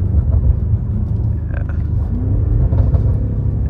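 A 2021 BMW M5 F90 engine rumbles steadily up close, with brief revving swells as the gears drop, the low drone continuous throughout.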